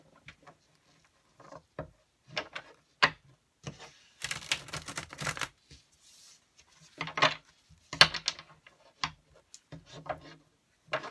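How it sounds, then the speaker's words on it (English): Soft, irregular riffling and light tapping bursts of tarot cards being shuffled and squared up close by, with quiet pauses between flurries. "I don't usually have trouble shuffling."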